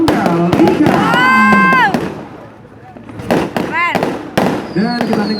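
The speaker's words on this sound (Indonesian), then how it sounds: "Dan kita nikmati terlebih dahulu Baik sekali. dari pesta kembang api yang malam hari ini." A nighttime fireworks display in Pati, Indonesia, with sharp bangs and whistling rockets bursting close by, loud and repeated over a few seconds.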